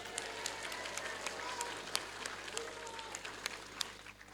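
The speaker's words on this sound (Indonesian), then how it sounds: "tepuk tangan untuk Dinda" Scattered clapping from students gathered outdoors at a high school flag ceremony in Cibinong, fairly faint and uneven, with individual sharp claps popping out over a distant murmur of voices.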